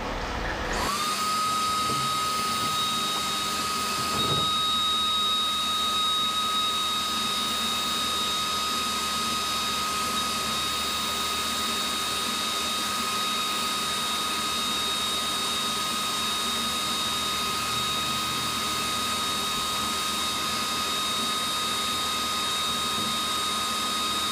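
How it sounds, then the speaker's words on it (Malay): A shop vacuum runs steadily in a homemade sandblasting rig, a loud continuous whine with a high tonal hum that starts abruptly after a brief quiet moment and holds unbroken, with no voices. "Okey geng, kira sekarang vacuum aku on"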